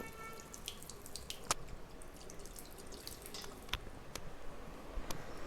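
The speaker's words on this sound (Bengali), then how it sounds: "এগুলোকে একটু ধুয়ে দেব হালকা একটু জলে আমি ভিজিয়ে যাচ্ছি" Woollen items being rinsed in a little water, with faint trickling, dripping and splashes from a tap or sink, a few sharper clinks, quiet and close.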